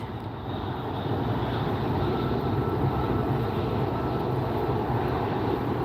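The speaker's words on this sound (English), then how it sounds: "Looked like it landed on the left gear first and then bounced over to the right." A fixed-wing airliner lands at LAX, its engine roar a loud, steady, broadband rumble that holds close and continuous from start to finish with no voices over it.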